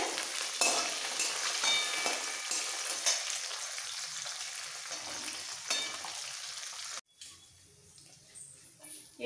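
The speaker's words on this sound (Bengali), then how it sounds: "এই সব মাছগুলোকে একটু কড়া করে ভেজে নিতে হবে" Tangra fish fry in hot oil with a crackling sizzle and occasional stirring scrapes, loud at first and easing off, then dropping to a quieter sizzle after a brief break.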